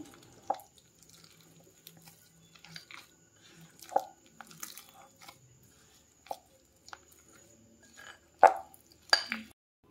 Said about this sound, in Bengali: তারপর আমি জল অল্প অল্প করে দিয়ে মাখিয়ে নিচ্ছি।